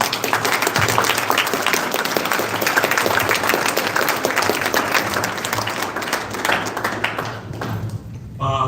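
A crowd gives a round of applause during a live stream, with dense, steady clapping that holds for several seconds before fading out near the end.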